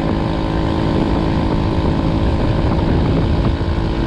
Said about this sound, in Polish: Dobra, przygazujemy, zobaczymy jak to się zbiera i jedzie.